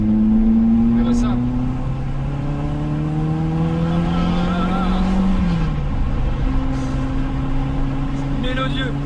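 Renault Clio 16S with its 16-valve engine revving, the pitch climbing steadily then dropping back and rising again, close and loud with a person talking over it.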